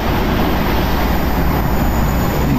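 A loud, steady broadband rumble of a passing light rail train and traffic on EDSA in Caloocan fills the whole clip, close and continuous, with no pauses.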